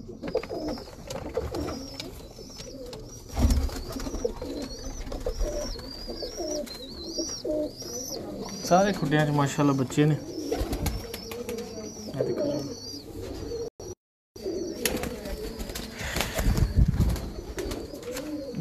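Teddy pigeons coo continuously in a breeder's loft, with someone talking over the birds, a brief flutter of wings and a short dropout near the end.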